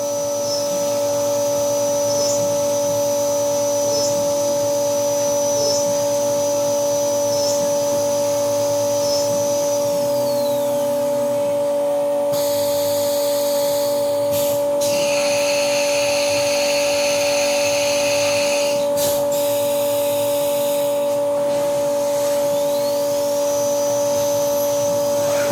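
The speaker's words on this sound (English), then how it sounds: "Doing a countersink now." A power tool cutting a countersink in an anchor locker on a vacuum fixture: a loud steady tonal machine whine with a bright cutting roar that rises in the middle, no talking.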